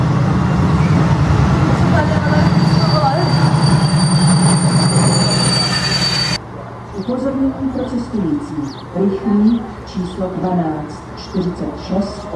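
A České dráhy regional train on the R26 line arrives at a station with loud wheel screeching and rumbling that drops off halfway through, followed by a station announcement.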